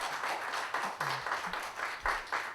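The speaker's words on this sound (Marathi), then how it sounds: "जोरदार टाळ्या" Loud applause from an audience at a mental health app launch event: dense, continuous clapping that swells in bursts, with a few brief voices underneath.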